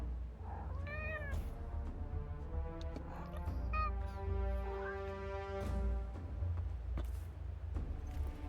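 A cat in the video game Forspoken gives several drawn-out meows, some rising and some falling, over a low steady rumble. The calls are spaced irregularly and sound moderately close.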